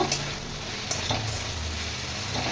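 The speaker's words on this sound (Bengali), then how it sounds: "এখন আমি দিয়ে দেবো এর মধ্যে এই কেটে রাখা বেগুনটা ভালো করে মিশিয়ে নেব" Cut eggplant stirred into half-boiled potatoes sizzling in a pan for a Bengali fish-oil dish, a steady close frying hiss with a few soft scraping strokes.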